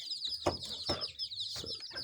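Chickens and chicks in a poultry house make soft clucks and thin high peeping, a continuous chick chorus with a few low cluck bursts, close and fairly quiet.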